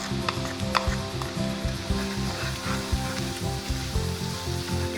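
Chopped garlic and green chilies sizzle and fry in a pan for a vegetable Manchurian, a steady crackling hiss with occasional sharper pops and stirring scrapes, close and fairly loud with no talking.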